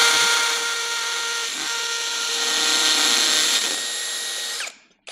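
A power drill from a TOTAL 3-in-1 kit bores a clean hole into brick with a steady, loud high-pitched whine that holds for several seconds, then spins down and cuts off abruptly.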